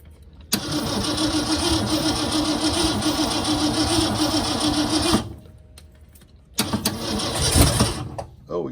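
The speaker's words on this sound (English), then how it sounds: "Oh, it has an exhaust leak." The engine of a 1964 Ford Ranchero, sitting since 1984, cranks and catches, running rough and loud for several seconds with a raspy, sputtering exhaust-leak edge, cuts out, then fires again briefly.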